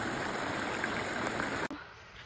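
Steady rushing of a flowing stream near a waterfall, a dense broadband wash heard close up, with a brief click near the end and no talking.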